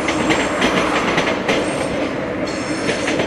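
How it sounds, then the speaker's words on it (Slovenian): A train passes below a hillside overlook near a railway station in Australia at sunset, its steady broadband rumble and rhythmic wheel clatter filling the scene loudly and continuously, with no voices. "Vlak"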